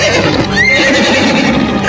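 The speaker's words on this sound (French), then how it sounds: "Ce n'est pas le cheval de Véronica?" Veronica's horse neighs in a loud, close whinny lasting most of the moment, with faint hoof clatter and outdoor ambience behind it.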